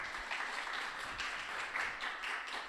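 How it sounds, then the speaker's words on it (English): Online-conference audience applauding after a speaker at a climate accelerator demo day, a steady wash of clapping throughout, fairly quiet and somewhat distant. "Let's give him a big round of applause."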